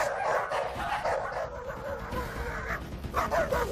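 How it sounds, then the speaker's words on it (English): Several dogs bark and yip together in quick overlapping bursts, close and lively, with some whimpering mixed in. "Those guys already know how to bark together"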